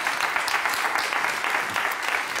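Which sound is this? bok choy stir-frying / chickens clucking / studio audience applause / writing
studio audience applause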